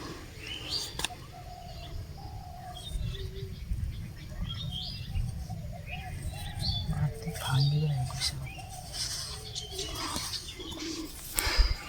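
A baby bird being rescued from a hole in the ground near a river gives repeated thin calls, with low cooing and chirps around it amid outdoor rustling and some faint voices.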